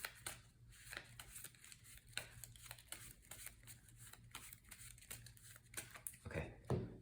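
A deck of game cards is shuffled by hand during a solo tabletop card game, with quiet repeated riffling and tapping bursts at close range, fairly faint with brief pauses.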